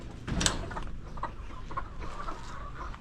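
Chickens of mixed egg and meat types cluck softly and fairly faintly in a farmyard, with a brief louder squawk near the start and scattered calls after, and no talking.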